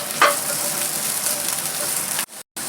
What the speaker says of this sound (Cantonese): 而家呢，就落啲蘆筍落去炒咗佢先。